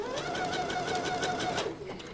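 A home sewing machine running a short back stitch on a t-shirt seam, a steady close mechanical whir with a tonal hum that drops off near the end, no talking.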